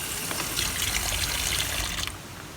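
Tap water runs and splashes over an oxtail roast being rinsed for stew, a steady close trickle and gush that eases off near the end.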